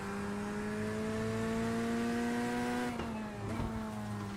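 A McLaren GT3 race car roars past in a racing video game at The Bend, its steady high engine drone dipping sharply as it goes by, with a second engine tone shifting just after, loud and close throughout.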